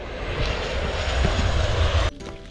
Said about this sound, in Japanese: フライングホヌって亀の飛行機が来るから